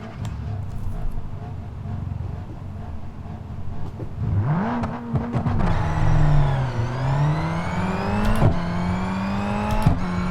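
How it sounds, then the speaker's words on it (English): A race car engine in the driving game BeamNG.drive revs up and falls back in rising and falling whines over a steady motor drone, loud and close, with a few sharp clicks. "That sounds more like it. Sounds more like a race car."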